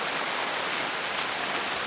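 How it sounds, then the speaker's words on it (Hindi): Heavy rain comes down in a steady, broad hiss, close and unbroken, with no voices heard. "बारिश भी बहुत आ रहा है"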